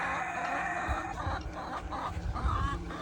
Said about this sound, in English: They're very curious. Happy chickens.